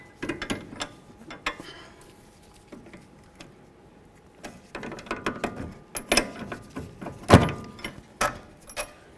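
An 18mm wrench and socket loosen the upper sway bar link bolt on a 2008-2012 Jeep Liberty, making scattered close ratcheting clicks and metallic clanks that grow denser and louder toward the end.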